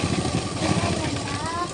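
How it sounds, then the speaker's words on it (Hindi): A sewing machine stitching a seam along a palazzo trouser, its motor running steadily up close with a fast, even rhythmic needle chatter throughout the short burst. "ऐसे में ही हम इधर भी पूरे में सिलाई लगाते जाएंगे"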